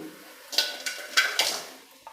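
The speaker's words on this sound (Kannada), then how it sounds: "ಈಗ ಬಾಣಲೆ ಇಟ್ಟಿದ್ದೀನಿ ನಾನೀಗ ಬೆಲ್ಲನ ಹಾಕ್ಕೊತಾ ಇದ್ದೀನಿ" Powdered jaggery going into a pan for avarebele pongal: a handful of soft, close clinks and scrapes against the metal, spaced irregularly across a quiet kitchen background.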